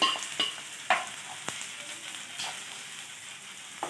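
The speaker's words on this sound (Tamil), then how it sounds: "தூளை நல்லா எண்ணெயில் வணக்கிட்டோம்னா அந்த பச்சை வாசம் போயிடும்" Spice powder fries in hot oil with onions and curry leaves for a goat brain egg fry, giving a close, steady sizzle broken by sharp stirring clicks and scrapes, with no speech.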